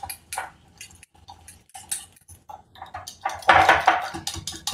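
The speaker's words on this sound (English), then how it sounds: "I have a whisk, put it in a jar, and just whisk it." A whisk rattles inside a jar of honey dressing, with irregular clinking and tapping strokes, sparse at first and then a quicker, louder burst of clatter near the end, close by with no talk.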